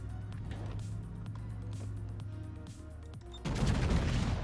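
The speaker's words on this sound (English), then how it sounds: "Wow, that was a decent salvo." USS Iowa, a Tier IX American battleship in World of Warships, fires a heavy gun salvo, a rumbling volley of booms with a loud burst near the end over steady engine hum.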